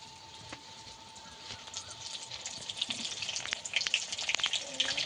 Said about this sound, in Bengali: এইবারে যে আমি শুকিয়ে রেখেছিলাম এই আমগুলো এর মধ্যে দিয়ে দেবো, তেলের মধ্যে দিয়ে তেলটাকে ঠান্ডা করে নেব।